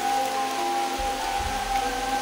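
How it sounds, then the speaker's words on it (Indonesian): Rain falling steadily outdoors as a soft, even hiss with a thin tonal hum running through it and a low thump midway. "Hujan guys."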